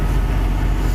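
A Ford-style 300 inline six engine running steadily just after a cold start, rough and misfiring on some cylinders, a loud close continuous low rumble with uneven pulsing.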